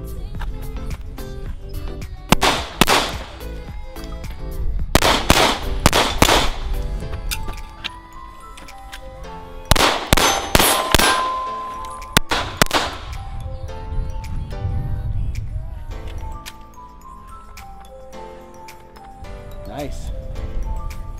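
Gunshots strike multiple steel targets during practice shooting, giving several sharp, loud cracks in spaced clusters with ringing decay and quieter stretches between them.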